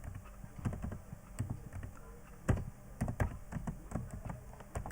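Someone types a message on a computer keyboard, with irregular bursts of soft key taps and a few harder keystrokes, close and quiet with no talking.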